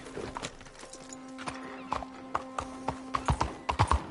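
Horse hooves clip-clop steadily in the Red Dead Redemption 2 video game, a close, rhythmic run of hoof strikes that quickens toward the end, with a brief whinny and a low tonal hum beneath.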